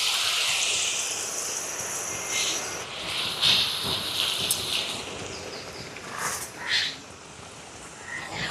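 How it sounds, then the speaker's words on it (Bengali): Shredded potatoes drop into hot oil and fry with a strong, close hiss and bubbling sizzle that stays steady. It swells in a few brief bursts and then settles. "তেলটা একই রকম গরম রয়েছে, আবারও কিছুটা আলু দিয়ে দিচ্ছি"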